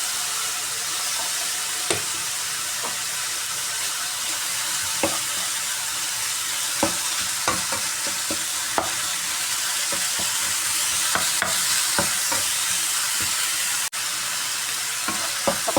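Ground meat sizzles and fries steadily in a hot pan, with scattered clicks and scrapes of a utensil stirring through it over the constant hiss.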